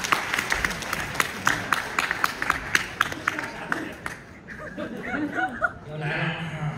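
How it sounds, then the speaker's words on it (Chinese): An audience at a Deyunshe crosstalk evening show in Harbin claps steadily for around four seconds. The clapping then fades into scattered chuckles as a performer starts talking. "掌声有请。"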